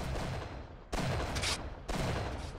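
Shotgun blasts from a video game firefight, two loud broadband bursts about a second apart over a steady, noisy game background.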